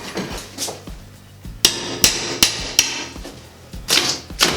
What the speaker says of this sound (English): Take our pry bar right in the back of that.